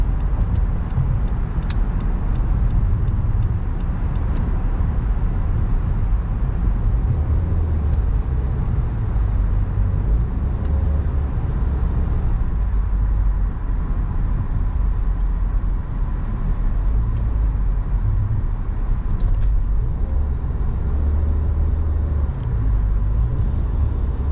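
A car drives steadily through a road tunnel in light traffic, its engine and tire rumble filling the enclosed space with a constant low roar, with no talk.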